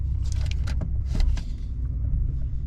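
An old pickup truck engine idles steadily with a low rumble, joined by a few light clicks and rattles close by.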